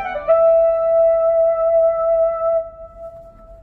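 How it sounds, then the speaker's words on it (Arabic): A Yamaha PSR-SX600 keyboard plays a single sustained synthesizer tone with a bright attack, holding clear and loud before fading out, heard alone. "اذا بغيتوا تسمعون اصوات السينديسايزر، هاي اصوات السينديسايزر"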